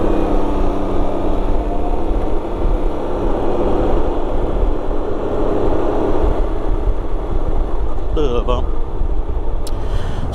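A Can-Am Ryker three-wheeled motorcycle cruises home on the road, its engine drone and wind rush holding steady and loud throughout, with a couple of brief clicks near the end.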